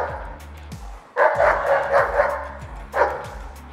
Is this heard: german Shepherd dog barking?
yes